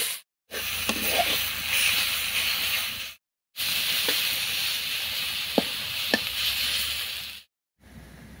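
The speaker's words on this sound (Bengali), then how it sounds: "এগুলো ভাজা হয়ে গেলে এর ভিতরে আমি সিদ্ধ করা শাকগুলো দিয়ে দেব" Boiled greens frying in oil with onion, garlic and chili in a home kitchen, a steady close hiss and sizzle with occasional stirring clicks, broken by brief silent gaps.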